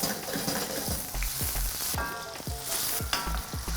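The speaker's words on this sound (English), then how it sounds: "What happens as well here with frying this prosciutto is that we're rendering off that fat" Prosciutto fries in a thin, quick-heating wok with grapeseed oil, giving a steady close sizzle and crackle with repeated soft knocks and scrapes of stirring throughout, no voices.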